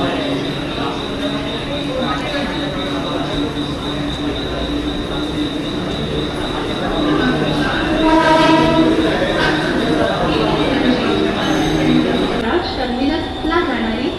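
A Mumbai harbour line local train bound for Chhatrapati Shivaji Maharaj Terminus rumbles steadily over rails, with wheel squeal and a horn-like tone rising near the end, while a platform announcement voice talks over it.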